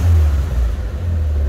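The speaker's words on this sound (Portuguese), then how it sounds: "ele liga e fica acelerando a F100" A parked Ford F100 pickup truck's engine revs loudly and close, a deep throbbing rumble that swells and dips slightly without pause.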